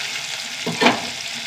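Dried red chillies and garlic fry in hot oil with a steady close sizzle, and a brief stir or hiss swells just before the midpoint.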